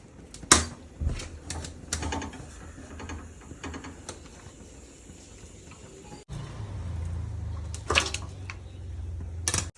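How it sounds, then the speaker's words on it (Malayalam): Boiled bitter gourd pieces are scooped out and dropped into a metal strainer vessel in a home kitchen, giving sharp scattered clinks and scraping knocks of utensil on metal with quieter gaps and a low rumble. "കോരി ഇങ്ങനത്തെ ഒരു അരിപ്പ് പാത്രത്തിലേക്ക്"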